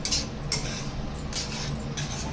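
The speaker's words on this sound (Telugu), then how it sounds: "కొంచెం కలర్ వచ్చిందాక వేయించుకోవాలి." Semolina roasts in a pan for rava laddu while a spoon stirs it, giving a steady dry rustling hiss with a few louder scraping strokes, close and continuous without any talk.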